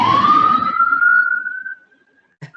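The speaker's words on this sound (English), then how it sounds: "We'll just let that siren pass." A police siren wails loudly at close range, its rising tone sweeping up and steadying before fading away as the vehicle passes, followed by a brief faint knock.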